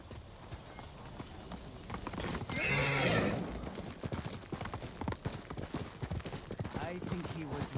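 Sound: horse hooves in a video game

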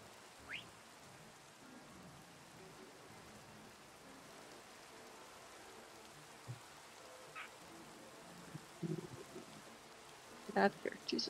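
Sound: rain falling in Minecraft video game

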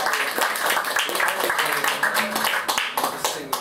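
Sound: audience applause for the drummer Leon at a concert

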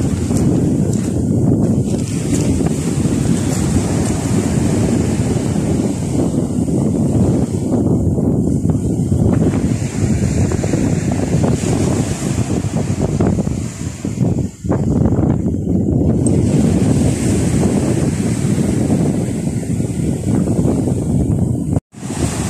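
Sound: strong wind

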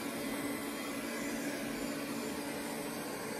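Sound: Ecovacs Deebot 920 Ozmo robot vacuum cleaner running

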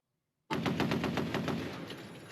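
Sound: robot firing machine gun

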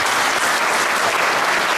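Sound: audience applause

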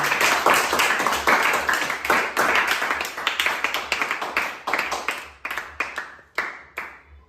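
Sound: audience clapping for Lakshmi

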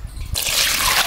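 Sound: oil being poured while cooking rajma

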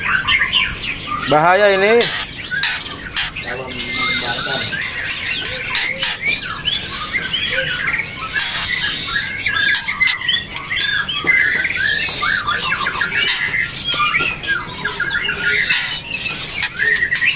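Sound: Murai Medan Trotol shama singing, captive-bred, 3.5 months old

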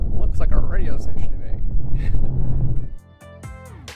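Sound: wind blowing on the microphone outdoors

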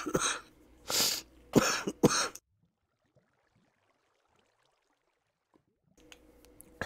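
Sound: coughing

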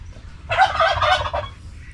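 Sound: turkey gobbling

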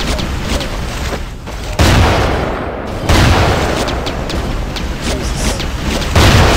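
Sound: shotgun fire in Terminator Genisys Guardian video game

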